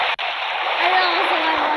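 A sustained splashy wash of water from a video game character splashing into water fills the clip, steady and fairly loud, with no voices over it.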